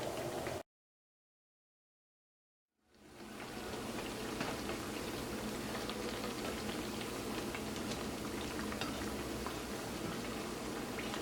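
Parippu vada, lentil fritters, frying in hot oil, a steady dense sizzle and bubbling that starts after a brief silence and stays constant and fairly loud.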